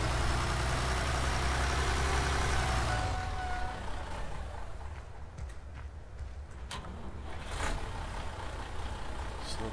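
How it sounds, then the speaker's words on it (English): Farm tractor engine idling, used for windrowing, a steady loud low rumble that eases slightly partway through and continues with a faint high whine and occasional knocks. "get in our other tractor and keep on continuing windrowing."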